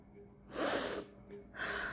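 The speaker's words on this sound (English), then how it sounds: "Different ways of sneezing." A person sneezes in a comic skit: one loud, sharp sneeze burst, followed moments later by a second, shorter breathy burst. Both are close and clear with no talking.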